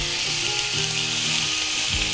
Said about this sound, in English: you should hear that sizzling sound when the pork hits the frying pan